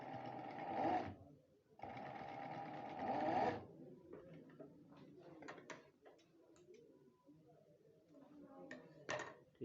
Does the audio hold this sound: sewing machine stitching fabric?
yes